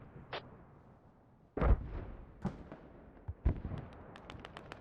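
Mortar fire in the video game Squad, heard as several sharp separate thumps and blasts spaced over a few seconds, the loudest with deep low impact, set against quiet background ambience.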